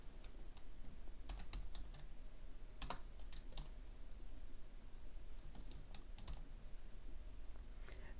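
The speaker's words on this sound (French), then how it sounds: "Il vous suffit de rentrer votre texte." Typing on a computer keyboard while entering text, a quiet, steady patter of soft key clicks with a few sharper taps, continuing throughout with no talk.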